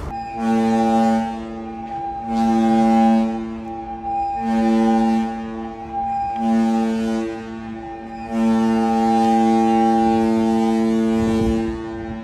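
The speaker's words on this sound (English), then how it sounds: "They're getting ready to blow the horns." A cruise ship's horns sound at sea during a safety briefing: a run of loud, deep blasts, roughly five or six long tones separated by short gaps, the last blast held longest, with no talking over them.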